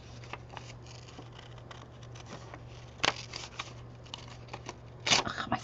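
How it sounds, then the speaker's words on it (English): Scissors cut paper around tight curves with a soft, steady snipping texture under a low room hum, broken by two sharper snips or clacks. "Ugh, my scissors hung up."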